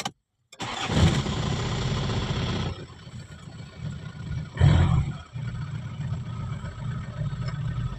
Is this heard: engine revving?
yes